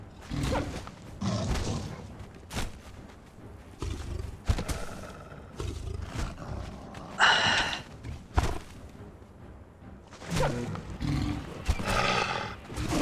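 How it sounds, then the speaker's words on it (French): In Conan Exiles, on the modded Savage Wild map, a tiger fights a companion animal with repeated roars and growls. Impacts and bursts of combat come in uneven clusters over a busy game soundscape, and no speech is heard. "c'est un petit peu plus difficile le tigre que le gorille pour Loki"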